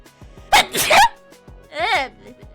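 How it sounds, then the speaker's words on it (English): A loud sneeze bursts out close by, followed a moment later by a short vocal exclamation. "I have to sneeze."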